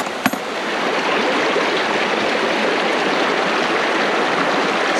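Water rushes steadily through a gold panning sluice on a Scottish stream, a loud, continuous close-up wash with a brief knock at the very start and no voices.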